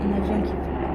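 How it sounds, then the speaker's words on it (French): A helicopter passes overhead during an indoor skincare routine, its low droning rotor rumble steady and fairly loud throughout, with talking over it. "un hélicoptère qui passe. Pardon pour le bruit."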